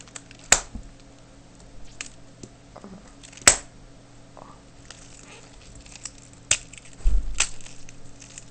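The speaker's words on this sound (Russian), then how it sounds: "Сейчас я разорву шарик." A rubber balloon with a phone inside is torn open, heard as a few sharp, isolated snaps and pops close up, spaced seconds apart, with a muffled thump and rustle near the end.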